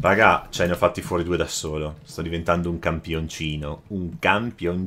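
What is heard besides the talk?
None of the usual background noises is heard.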